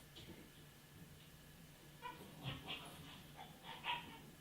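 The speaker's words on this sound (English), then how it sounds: "if you hear dogs in the background, that's because there are dogs in the background" Faint dogs yipping and barking a few times in the distance over a low background hum.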